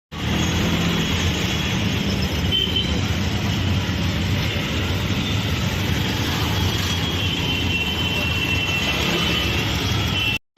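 A loud, continuous roar and hiss of a train fills a crowded Diva station platform, holding steady throughout before cutting off abruptly, with only faint voices in the background.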